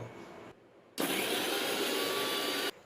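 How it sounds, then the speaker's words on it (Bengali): A mixer grinder whirs loudly for under two seconds as it grinds cumin, garlic, ginger and three green chillies. It starts abruptly after a short quiet pause and stops just as suddenly. "আর অল্প আদা, 3টে কাঁচা লঙ্কা। এবার বেটে নেব।"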